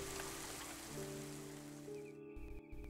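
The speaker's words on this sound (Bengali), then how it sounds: "বৃষ্টি, আর তার সাথে দমকা বাতাস বয়ে চলেছে।" Rain with gusty wind in a Bengali horror cartoon, a steady wash of rainfall throughout, blended with sustained tonal background sounds and a few low thumps near the end.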